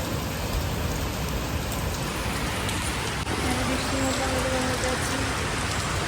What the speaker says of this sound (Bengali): মানে প্রচন্ড বৃষ্টি হচ্ছে